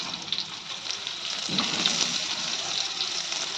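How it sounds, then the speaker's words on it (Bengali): Potatoes and eggs fry together in hot oil, a dense steady crackling sizzle close by that thickens slightly after a soft thump midway, with no speech. "আমি ডিম আলুটা একসাথে ভেজে নেব আলু দিয়ে দিলাম"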